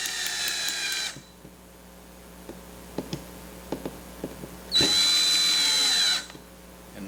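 A DeWalt power drill drives screws while an electrical stage stringer is assembled. Two sharp, close bursts of whirring drill come about four seconds apart, with scattered light knocks and clicks in the quiet between them.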